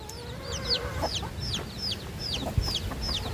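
Newly hatched ducklings and chicks peep in a steady run of high, rapid chirps, several birds calling close by over a low background rumble, with no talking.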